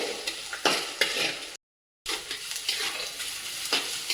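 Onions frying and being stirred in a pan for jowar flour upma, with busy crackling sizzle and scraping stirs close up, briefly cut to silence midway, then resuming.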